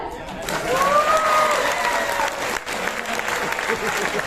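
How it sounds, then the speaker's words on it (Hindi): Audience clapping at a women's business training session, a loud continuous round of applause with cheering and raised voices mixed in, carrying steadily to the end. "ताली बजा लो।"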